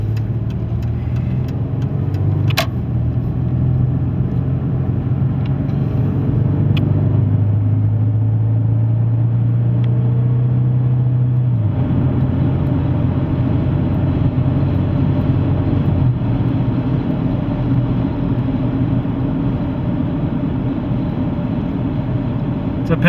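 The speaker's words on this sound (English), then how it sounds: "It's a peppy little Jeep, you guys, for sure. Just goes great down the road, straight." A 2005 Jeep Liberty Renegade driving down the road: steady engine hum and tyre rumble from inside the cab, with the pitch stepping up and down as it shifts gears, continuous throughout.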